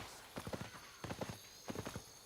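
A ridden horse in the Albion Online video game sets down its hooves in three quick clip-clop clusters, each a rapid patter of hoofbeats, clear and moderately loud against a quiet background.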